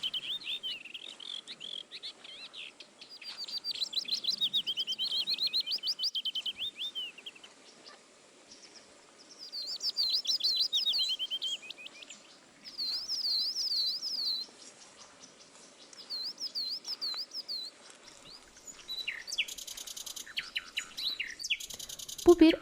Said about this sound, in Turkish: Çalıların arasında kamışçın, baştan kara gibi kuşların sesleri yükseliyor.